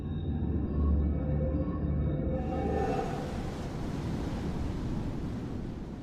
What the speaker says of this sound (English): The reef here is so short, so the waves are breaking right there.